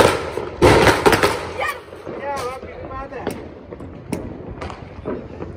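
Diwali firecrackers and bombs go off outdoors. Several sharp, loud bangs and pops come at irregular intervals, with voices talking and shouting between and over them.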